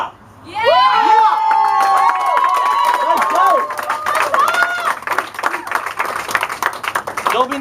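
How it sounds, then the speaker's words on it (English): Crowd clapping and cheering at a lively event, with loud shouts and whoops over steady applause, children's voices mixed in and people calling out throughout. "Clap it up!"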